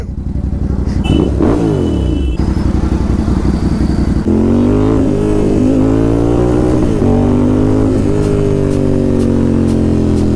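A Ducati Supersport 950S superbike engine runs close and loud in neutral, a throbbing twin-cylinder idle with rising and falling revs and some mechanical clatter, continuous throughout.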